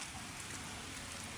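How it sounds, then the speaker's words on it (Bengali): Heavy rain pours down steadily on a village home in Dinajpur, a dense, continuous hiss with no breaks and no voices. "বৃষ্টির দিন, প্রচুর বৃষ্টি হচ্ছে,"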